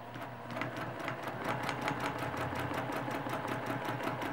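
Close, steady rapid stitching from a sewing machine backtracking over quilt stitches, an even pulse of needle strokes running without pause for several seconds.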